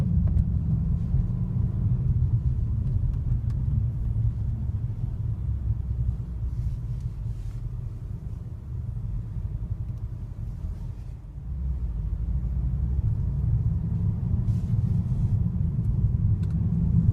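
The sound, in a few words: 2015 Mercedes-Benz E63 AMG S-Model sedan accelerating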